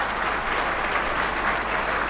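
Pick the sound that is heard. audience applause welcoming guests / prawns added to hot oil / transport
audience applause welcoming guests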